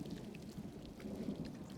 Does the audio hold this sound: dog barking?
no